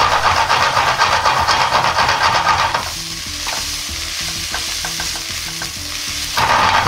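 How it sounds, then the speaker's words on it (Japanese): Soy sauce and a chunk of lard sizzle and crackle loudly in a hot pan while being stirred for ramen tare, a dense continuous fry with scraping strokes, easing briefly before flaring up again. "醤油を入れたら全体に広がるように混ぜ合わせて炒めます。"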